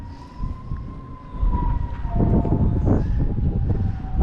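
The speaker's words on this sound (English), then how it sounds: "Police sirens, fire truck. Well, that sounds like a fire truck." A fire truck siren wails loud and close as it passes near a fishing spot, its steady rising tone riding over a heavy rumble of traffic and outdoor noise.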